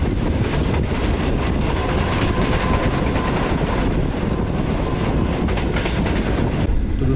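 Green Line Express passenger train on the Lahore line, a loud continuous rumble of wheels on rails with steady clatter, heard close and alone for several seconds.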